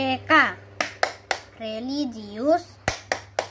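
Children chanting the Scout clap routine Tepuk PPK, their sung voices broken by sharp group hand claps in a steady rhythm, loud and close.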